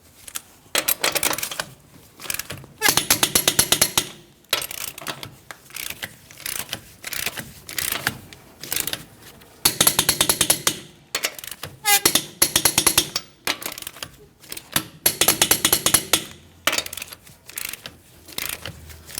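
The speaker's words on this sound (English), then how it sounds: "Let's go ahead and torque each one of our lug nuts to that 148 foot-pounds." Repeated ratcheting bursts from a torque wrench snugging lug nuts on a Ford Transit-250 front wheel, several separate clicking runs of a second or so each with brief pauses between, close and fairly loud.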